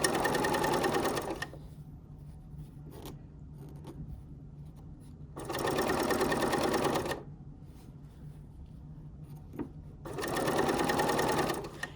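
Sewing machine stitching fat quarter fabric strips for a reusable tote bag, running in three loud bursts of rapid whirring separated by quieter gaps with soft handling clicks.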